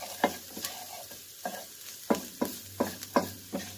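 Fried rice being stir-fried in a pan: a steady run of sharp spatula scrapes and clanks against the metal, roughly every half second, close and crisp over a low hiss of sizzling, with no voices.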